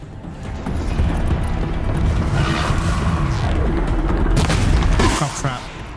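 Gunfire and explosions in the video game Horizon Zero Dawn, a dense stretch of rumbling booms and crashing blasts with brief sharp bursts, loud and continuous before easing off at the end.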